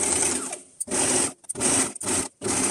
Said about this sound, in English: And now I'm going to sew the middle together.